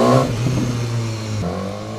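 A BMW S1000R naked motorcycle engine runs steadily nearby, a low droning hum whose pitch shifts partway through as it revs, heard alone without talk.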